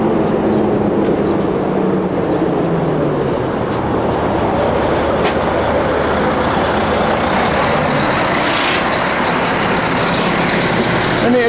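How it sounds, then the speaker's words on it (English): A large lorry passes beside a quiet canal, its heavy engine rumble and tyre roar loud and close, holding steady for several seconds before easing slightly as it goes by. "you've got a whopping great lorry like this"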